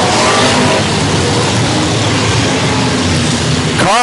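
Modified race cars in a USRA A&B Mods event at Central Missouri Speedway roar loud and steady on the track as the field gets back underway, with a passing car sweeping by near the end.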